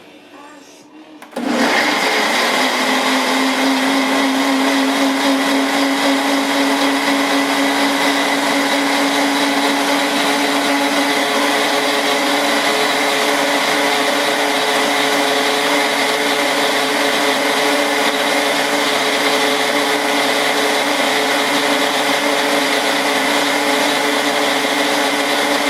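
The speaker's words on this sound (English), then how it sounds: "And you're going to blend your nuts." Blender switches on after a brief click and runs loud and steady for over twenty seconds, a constant motor whine churning nuts with ice cubes for nut milk, with no letup.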